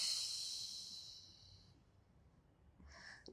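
A slow, hissing exhale during a relaxing pilates stretch fades out over about two seconds, then a short, softer breath follows; close and quiet, with no talking.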